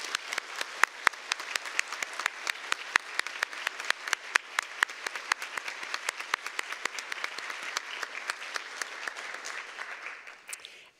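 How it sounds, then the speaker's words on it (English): A graduation ceremony crowd at a Waterloo convocation applauds steadily, with dense, sharp claps running evenly throughout the whole stretch and tapering slightly at the very end. "Please join me in a round of applause to recognize everybody who's here."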